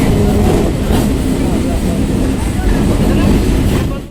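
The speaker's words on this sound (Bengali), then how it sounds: "এগারোটা 15 নাগাদ বারুইপুর লোকাল প্রবেশ করলো সুভাষগ্রাম স্টেশনের 1 নম্বর প্ল্যাটফর্মে" A Baruipur local train pulls into platform 1 at Subhashgram station, a steady loud rumble of wheels and carriages that runs throughout, with people talking faintly beneath it.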